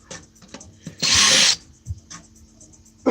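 A power drill backs screws out of scrap material: a single loud, sustained whir of about half a second stands out amid quieter handling clatter and rubbing.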